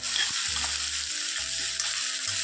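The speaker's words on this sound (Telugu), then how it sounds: "ఉల్లిపాయ ముక్కలు పచ్చిమిరపకాయ ముక్కలు కట్ చేసి పెట్టుకున్నాం కదండి వేసుకొని కొంచెం ఫ్రై అవ్వాలి" Onion pieces and green chillies fry in hot oil, a steady bright sizzle with low scraping thumps from stirring, close and loud.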